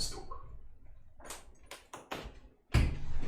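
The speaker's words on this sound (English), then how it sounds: "Let me close this door." Indoor door closing: a few soft knocks and shuffles, then a firm thud as it shuts near the end, fairly close and unaccompanied by talk.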